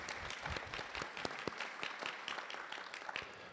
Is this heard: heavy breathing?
no